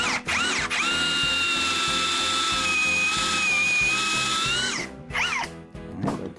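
A power drill fitted with a Forstner bit bores into a piece of scrap wood, giving a loud, steady whine for about four seconds that winds down, then two brief bursts as the drill is run again.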